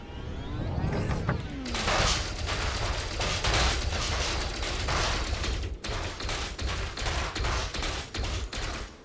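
Ship weapons fire rapidly in the space combat game Elite: Dangerous during a training mission, a dense, sustained stream of loud repeating shots over a constant engine rumble, with a brief gap before firing resumes.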